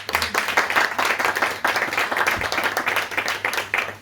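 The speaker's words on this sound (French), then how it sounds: "Merci Dominique, on peut l'applaudir." At a literary afternoon presenting authors, an audience applauds with brisk, dense clapping that stays loud and close, gently pulsing, for the whole stretch.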